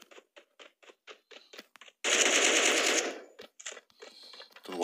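Gunfire in the video game Badlanders: a series of sharp, evenly spaced shots, then a loud sustained burst lasting about a second, followed by more scattered reports.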